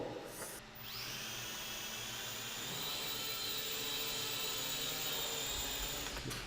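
Drone motors on a training flight at a drone school, a steady high-pitched electric whine that rises after a brief start and holds constant, fairly loud and close, with no speech.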